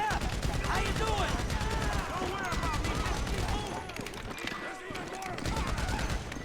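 Rapid bursts of gunfire fill a shootout in Grand Theft Auto 5, with dense overlapping shots throughout, at times easing slightly and then picking back up.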